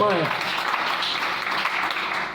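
A church congregation applauds during a service, a dense, steady wash of clapping from many hands that fills the space, loud and sustained with no one speaking over it.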